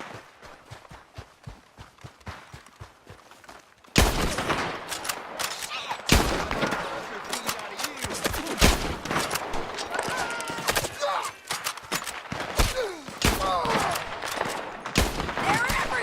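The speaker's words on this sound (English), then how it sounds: "Keep shooting until they're not!" Gunfire erupts in Red Dead Redemption 2, a few quieter shots at first, then a loud, dense barrage of overlapping rifle and pistol fire with shouted voices among it and hooves faintly behind.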